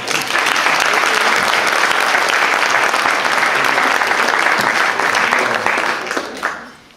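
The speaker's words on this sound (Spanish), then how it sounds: "Un aplauso para Mauricio." Sustained applause from the audience at a novel's book launch in a bookstore, dense clapping continuing steadily for several seconds before tapering off at the end.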